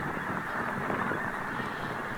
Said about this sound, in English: There's another huge flocks of geese.